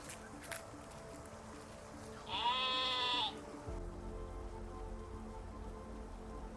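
A single drawn-out bleat, like a sheep's, rises briefly over steady patter and background noise, then a low rumble takes over.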